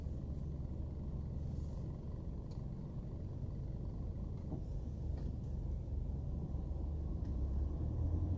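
Steady broadband rumble of morning city traffic on FDR Drive in New York, a continuous drone of cars, buses and trucks rolling past nearby with no pauses and no talking.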